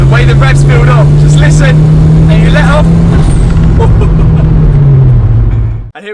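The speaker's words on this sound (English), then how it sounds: "The way the revs build up, just listen, and you let off." Ford Escort RS Cosworth engine, manual gearbox, revs climbing steadily in a loud continuous drone from inside the car, then easing off as the throttle is released; a voice talks over it.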